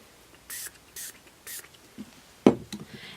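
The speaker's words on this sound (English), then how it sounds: "So I'm going to give that a good spritz, get that all down in the nooks and crannies." Three short, crisp spritzes of Glimmer Mist spray onto pine garland, evenly spaced and close, followed by a light knock and soft rustling.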